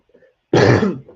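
A single short cough, close and abrupt, after a moment of near silence with faint background murmurs.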